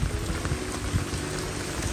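Rain falling outdoors in rural Kokan, a dense steady patter of drops on surfaces close by, continuous throughout without talking.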